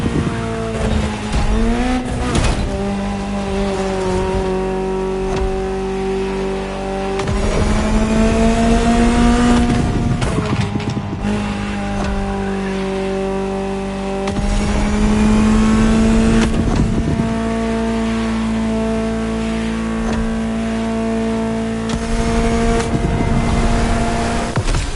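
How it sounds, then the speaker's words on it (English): Ferrari supercar in the racing video game The Crew Motorfest, engine roaring loud and continuous as it revs up through gears, pitch rising and dropping with shifts, tires squealing at moments. "Just listen to the car you're driving."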